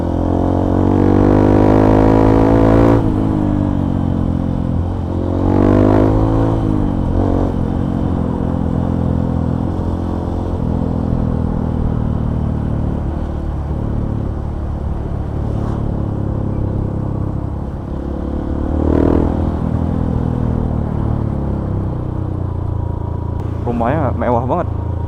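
Honda CRF150L trail motorcycle ridden fast on a smoother road after rough, damaged stretches near Bali's caldera, its engine droning loud and steady with revving swells and wind rumble, a voice talking over it.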